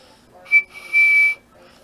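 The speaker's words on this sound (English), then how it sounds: "Presently, he heard a whistle." A clear high whistle sounds twice, a short blast followed by a longer sustained one, fairly loud against a quiet background.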